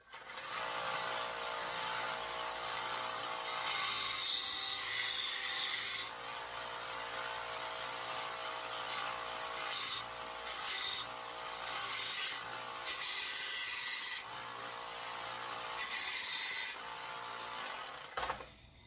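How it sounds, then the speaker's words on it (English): Close, steady scratchy rasping of sanding on a wooden hammer handle, coming in repeated strokes with short pauses between passes. "and then I'm gonna do some sanding. So more noise."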